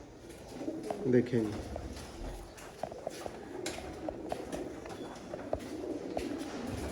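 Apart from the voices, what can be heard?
pigeons cooing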